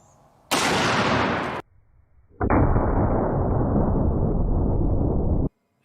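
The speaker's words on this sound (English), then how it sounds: "I'll now play the clip of the explosion." An overcharged device explodes with a sudden loud burst, followed by a brief pause and then a second long, roaring blast that lasts about three seconds before cutting off abruptly.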